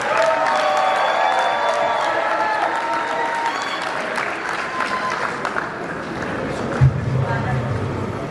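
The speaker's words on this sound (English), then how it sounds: "Please give them a round of applause." Loud, sustained audience applause fills a wedding reception hall as the bride's parents are welcomed, with dense clapping throughout and some crowd cheering mixed in.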